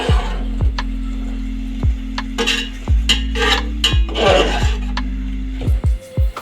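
A spoon scraping and stirring boiled potatoes into yakhni pulao in a cooking pot, with repeated rasping strokes and clinks against the metal over a steady low hum, close and fairly loud.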